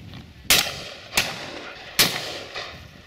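Shotgun shots at a pheasant and partridge shoot, four sharp reports at uneven intervals, the first and third loud and close, the others softer and farther off, over outdoor ambience.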